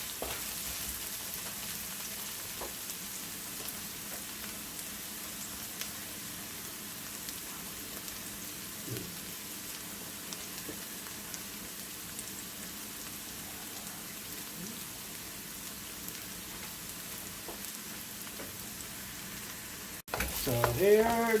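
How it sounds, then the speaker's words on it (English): Onion and garlic fry in a pan for Guyanese-style cook-up rice, giving a steady, even sizzle like light rain that carries on throughout without talking, before a sudden louder shift right at the end. "So here the onion and garlic is fried."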